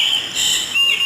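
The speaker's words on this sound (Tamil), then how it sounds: "குருவி வேற கத்துது, சத்தம்லாம் கேட்குது." Small sparrow calling near a house at dawn, a few thin bright chirps and whistles close by, with a brief sliding note near the end.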